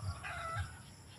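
Chickens clucking and a rooster-like call, moderately close, with steady farmyard background noise throughout.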